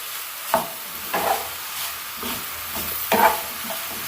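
Peppers for shawarma fry in a pan under a steady sizzle, with several scraping stirs and tosses coming at uneven intervals, close and fairly loud.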